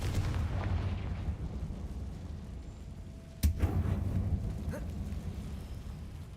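A Confringo spell explodes inside an old mine in the video game Hogwarts Legacy, one sharp booming blast cutting through low rumbling ambience, followed by a brief rumbling decay.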